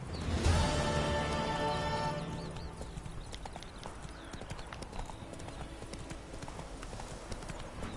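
Roach, the horse in The Witcher 3, gallops with rapid, continuous hoofbeats, close and steady, following a brief louder burst at the start.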